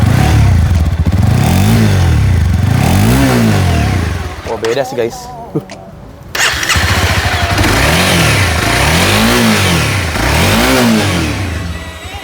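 A Honda CBR 250 motorcycle engine is started and revved in several loud, rising and falling bursts, dropping briefly to a near idle in the middle before revving again, with people talking over it.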